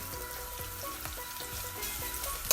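Ingredients for Caribbean coconut curry crab sauteing in a pan, a soft even sizzle with faint clinks, fairly quiet, no talk.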